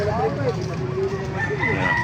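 A gamefowl rooster crows at the Baliuag tyangge market, a short, clear call ringing out near the listener over a low background of clucking and crowd murmur.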